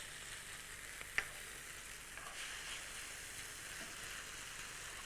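Tomatoes with finely chopped anchovy fillets are stirred in a hot pan, giving a faint, steady sizzle with one small sharp clink near the start and no talk.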